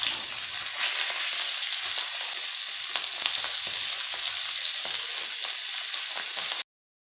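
Saundale fish fries in very hot oil, a dense continuous close sizzle with occasional crackles and light stirring, ending abruptly in silence; no one speaks.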